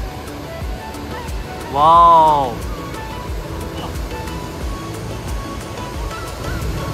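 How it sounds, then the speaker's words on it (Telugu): Pykara waterfall near Ooty gives a steady, broad rushing roar in the background throughout, while a nearby voice briefly calls out over it. "so at last Pykara water ఫాల్స్కి వచ్చేసాము"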